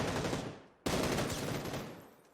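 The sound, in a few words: gunfire from a distance in the video game PUBG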